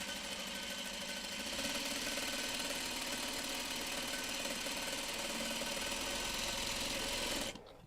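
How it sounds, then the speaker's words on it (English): A sewing machine stitches a diamond log cabin quilt block along the bias, its close mechanical whirr running steadily for several seconds before cutting off. "And we're sewing on the bias"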